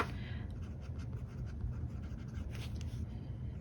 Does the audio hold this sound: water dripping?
no